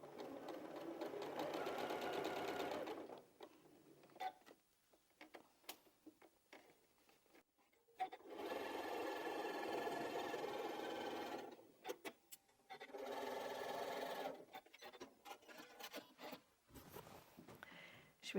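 A sewing machine stitches through a thick bulk of layered fabric on a teddy bear quilt block, running in steady bursts separated by pauses, close and fairly loud with ticking and rubbing between runs.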